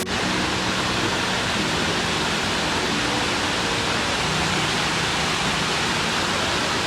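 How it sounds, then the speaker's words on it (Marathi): A waterfall in Rishikesh gives off a loud, unbroken broadband rush of pouring water, steady and close throughout with no voices. "तुम्हाला मी झरणा दाखवतो."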